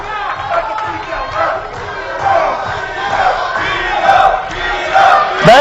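Wrestling crowd cheering and chanting loudly throughout a match, a dense roar that rises and falls in waves, with commentators talking over it.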